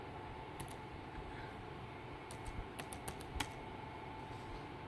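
Typing on a computer keyboard, heard as a few faint, scattered key clicks in short bursts over a quiet, steady background hum.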